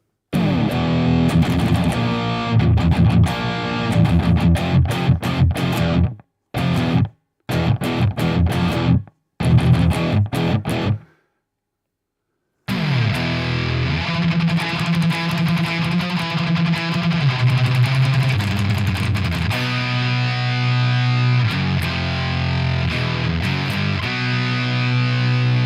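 High-gain, aggressive old-school electric guitar tone played through an iRig HD X mobile interface, loud and distorted, with choppy riffs cut by brief silences, then sustained chords and riffing.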